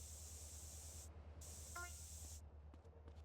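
Spray paint can hissing in GTA San Andreas while tagging a wall, two steady bursts of loud hiss over a low game hum, followed by faint clicks.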